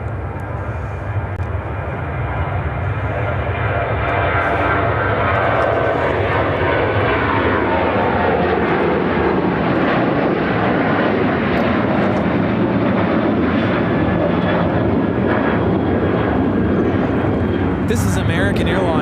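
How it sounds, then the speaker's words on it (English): An American Airlines Boeing 737-800 takes off at Chicago O'Hare, its jet engines building to a loud, continuous roar that holds strong, with occasional voices murmuring underneath. "This is American Airlines 403 taking off to Buffalo on the 737-800."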